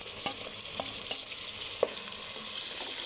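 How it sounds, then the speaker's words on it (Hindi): Chicken pieces frying in a pan with browned ginger-garlic paste, a steady close sizzle with occasional stirring clicks and scrapes, no voices. "ये हम इसके अंदर अब अच्छे से भूनेंगे ताकि इसका कलर जो है वो चेंज हो जाए।"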